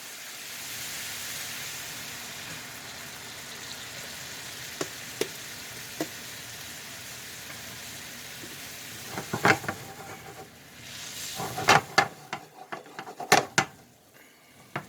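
Shrimp stock hitting a hot pan while making shrimp scampi, a low steady hiss that flares into louder crackling sizzle and sharp pops toward the end, with utensil clicks and no talking.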